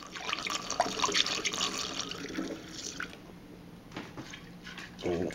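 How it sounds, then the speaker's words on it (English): Yeast starter is poured into a beer fermenter on a home brew day for a tripel, making a trickling, splashing liquid stream for several seconds that tapers off into a few drips, close and moderately loud. "I'm just gonna go ahead and pour most of the starter in."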